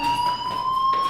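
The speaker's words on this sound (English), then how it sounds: "Hey, do you hear that fire alarm?" A fire alarm rings out in a steady, piercing high electronic tone, loud and continuous with no pauses, inside a school building.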